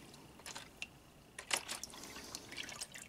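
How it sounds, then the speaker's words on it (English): Automatic transmission fluid drains from a 2013-2017 Honda Accord 3.5L V6 into a pan, a faint, close trickle and drip with small irregular splashes over a quiet background. "Now while it's draining"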